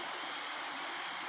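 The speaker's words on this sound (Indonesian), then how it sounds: "Ya kita pantau saja dengan drone teman-teman melalui udara." Drone flying overhead near a waterfall on Buton, a steady airy whirring buzz at constant level, broad and hissy, with no talk over it.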